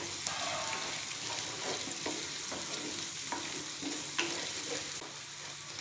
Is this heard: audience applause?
no